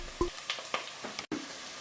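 Stump or honey fungus mushrooms frying in a pan and being stirred, with a steady sizzle broken by several sharp pops and utensil strokes at irregular intervals, close by.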